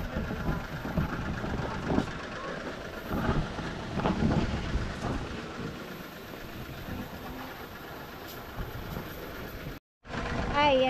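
Steady heavy rain pours outside a billiard hall in a dense continuous hiss, with low rumbles of thunder and a voice speaking over it before a brief dropout near the end.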